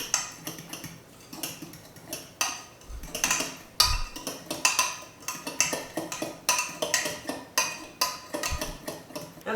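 A utensil clinking steadily against a bowl while homemade ranch salad dressing ingredients are stirred together, giving rapid close tapping and scraping with a few heavier knocks.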